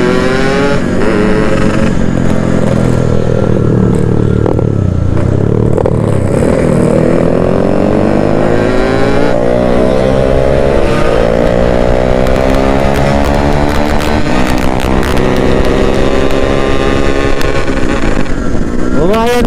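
A Kawasaki KLX supermoto motorcycle revs hard and rides close by, its engine note rising and falling through repeated loud accelerations, with faint voices at times.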